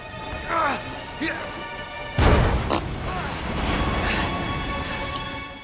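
An explosion in the Resident Evil 2 video game hits with a sudden loud crash and boom, followed by a lingering rumble and debris noise, after brief voices and scattered game sounds.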